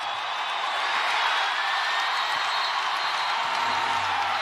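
A packed basketball arena crowd at a WNBA game roars and cheers in a steady, dense wall of noise that holds at full strength throughout.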